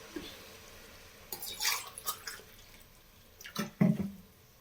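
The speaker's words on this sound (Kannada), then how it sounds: "ಈ ಗ್ಲಾಸ್ ಮೆಸರ್ಮೆಂಟಲ್ಲಿ ಐದು ಗ್ಲಾಸ್ ನೀರು ಹಾಕ್ತಾಯಿದ್ದೀನಿ" Water is poured by the glassful in a few short splashing bursts into a pot of rice for tomato bath, quiet and close, with gaps between pours and a louder final glug.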